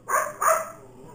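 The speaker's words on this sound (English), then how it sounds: "Would somebody let the dogs out?" Two quick, close dog barks ring out in a row and then fade into a quiet background hum, with no talking.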